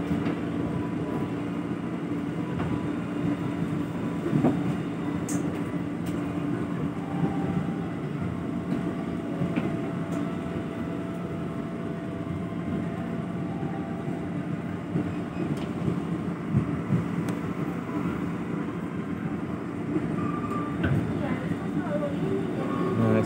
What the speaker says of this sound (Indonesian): naik KRL komuter lain, nantinya akan masuk jalur 7.